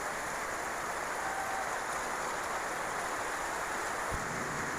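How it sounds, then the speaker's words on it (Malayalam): Steady rain pours in the morning over a house under construction, a dense, even hiss holding throughout with one faint thump near the end. "രാവിലെ തന്നെ നല്ല മഴ"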